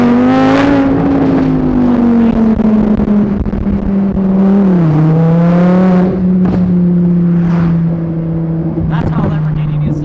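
A Lamborghini Huracan 580-2 fitted with an SRM race exhaust revs close by, its loud engine note rising and falling through several sustained blips over a steady idle drone.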